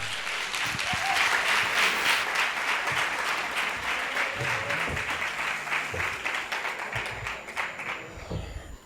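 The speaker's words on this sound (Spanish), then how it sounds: "Un fuerte aplauso" A lecture audience gives a strong round of applause for a speaker introduced to talk about Egypt, dense sustained clapping that swells early and then gradually thins out, with a few voices underneath.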